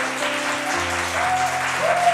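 A church congregation claps steadily and warmly throughout a Sunday service, welcoming newcomers, a dense wash of applause over a faint low hum.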